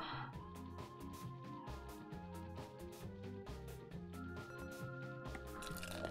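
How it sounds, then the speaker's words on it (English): A drink pours in the cooking game Cook, Serve, Delicious, with soft liquid drips and squishy fill sounds over a looping upbeat game music track. "Perfect pour for you,"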